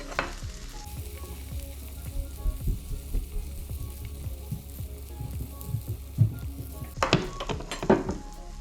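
Beef stock, about 100 ml, poured into a hot pan sizzles and bubbles steadily up close, with a louder hiss and spatter flaring near the end.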